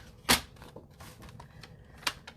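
Paper card base being cut with a blade on a paper trimmer, a sharp close click followed by faint small rustles and a second crisp snap about two seconds later, no talk.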